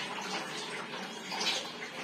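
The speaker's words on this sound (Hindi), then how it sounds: "पिचकार में पानी भरा जा रहा है" Water pouring into a Holi water gun (pichkari), a steady hissing splash that continues throughout, fairly quiet and with no voices.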